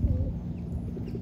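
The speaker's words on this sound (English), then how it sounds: "And there are lots of bird sounds." Birds call from the trees at a Punta Cana beach resort, with a faint dove coo and soft, distant chirps over a quiet outdoor background.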